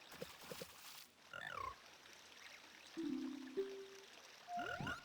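Frogs croak in Ocarina of Time, a series of short, bright chirping calls and sliding croaks with a steady game tone, moderately loud against a soft game background.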